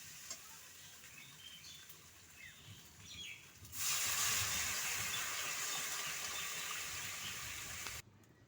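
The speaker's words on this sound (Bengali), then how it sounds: "এখন আমি পরিমাণ মতো দিয়ে দিচ্ছি জল।" Water is poured into a pan of fried masala with gathi kochu, a sudden loud hiss and sizzle breaking in partway that holds steady for several seconds before cutting off; faint kitchen background beforehand, no talk.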